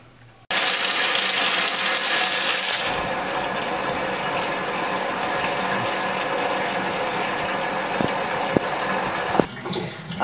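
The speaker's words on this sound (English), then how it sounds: "I'm going to put them in my tub and then I'm going to run hot water" Hot water runs from the tap into a bathtub in a loud, continuous gushing rush that softens slightly after a few seconds and carries on until it cuts off near the end.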